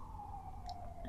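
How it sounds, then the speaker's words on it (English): A distant emergency siren wails faintly in a brief steady tone with no speech over it. "sorry about that siren."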